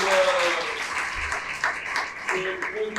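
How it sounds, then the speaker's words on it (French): An audience at a public broadcast panel on girls in science claps loudly and steadily, a thick wash of applause with a few voices rising briefly over it. "On peut applaudir très fort pour"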